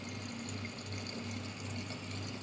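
Tap water runs steadily into a container with a continuous gushing rush and a faint pump-like hum underneath, close and fairly quiet, with no talk.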